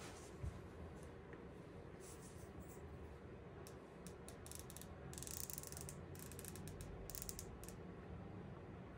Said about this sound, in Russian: Послушаем щелчки.